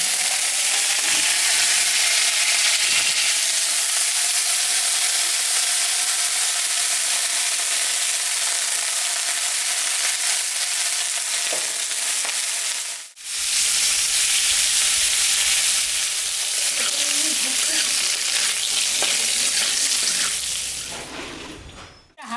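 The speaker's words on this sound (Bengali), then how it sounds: "লঙ্কা আমি ভেজে নিলাম ভাজা হয়ে গেছে" Chilies sputter in hot ghee in a wok, a loud, dense sizzle that runs almost unbroken, pauses briefly midway, then resumes before a final scrape.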